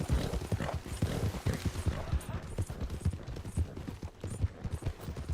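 Hooves of a black horse clip-clop along a race trail in a quick, steady rhythm of close, sharp knocks, with no talking over them.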